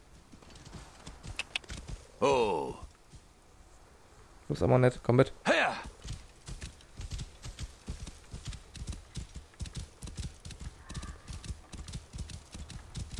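A horse's hooves clip-clop steadily in the Assassin's Creed Origins video game, with two loud neighs early on. Someone talks intermittently over the hoofbeats.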